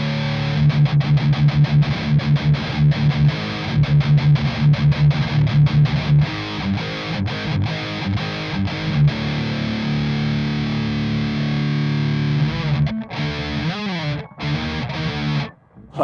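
Electric guitar through a Joyo Zombie distortion pedal with an EQ in the loop, mids scooped and highs boosted, for an 80s thrash sound: chugging palm-muted riffs, then sustained heavily distorted chords ringing out.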